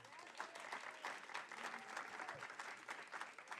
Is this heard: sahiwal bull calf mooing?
no